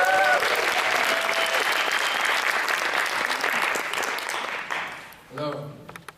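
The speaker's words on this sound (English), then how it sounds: "Round of applause, please" An audience at a young poet laureate audition in Birmingham greets a poet with loud, dense applause, while an announcer's voice carries over it before the clapping fades and a short burst of speech follows.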